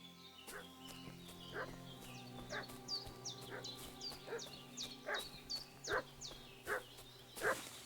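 A dog barking in Kingdom Come: Deliverance 2, a string of sharp, evenly spaced barks that grow a little stronger toward the end, heard faintly at a distance over a quiet background.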